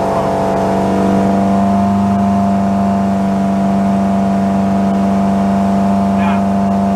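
A 34ft Hartley timber boat's engine drones steadily near full throttle at around 3000 RPM, a loud constant hum with heavy water and wind noise throughout, recorded on board.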